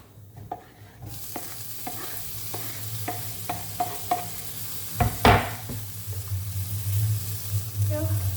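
Chopped ripe tomato drops into a hot pan of Kerala-style chicken curry and breaks into a loud hiss, after a series of light spoon taps and stirring clicks, then a steady sizzle continues.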